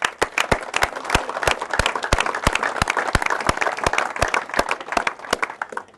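An audience at a pole fishing competition event at a farm venue gives a round of applause, with steady rhythmic clapping, close and loud, lasting the full few seconds.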